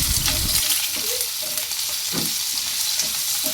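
Ginger and tomato pieces fry steadily in a pan for a fish curry, giving a dense, continuous sizzle with a few soft stirring knocks near the start and a quick cut-off at the end.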